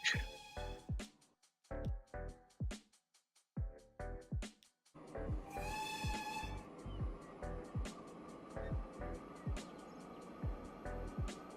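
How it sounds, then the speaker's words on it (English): A train in the Transport Fever 2 simulation game begins running: after talk with pauses, a steady rolling drone sets in, a bright horn toot sounds briefly, and rhythmic clacks continue under occasional speech. "We're going to be watching the train now."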